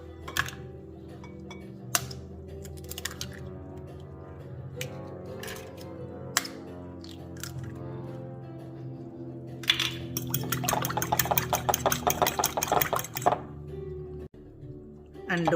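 Three eggs being beaten for a lagan ki seekh meat loaf, with quiet scattered taps early on, then a fast, steady run of rhythmic whisking clatter for a few seconds close by.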